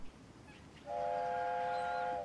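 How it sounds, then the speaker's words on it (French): A cartoon vehicle's horn sounds once as a steady, loud, sustained honk of about a second and a half, stacked tones holding level against a quiet background before cutting off. "C'est le klaxon de Billy."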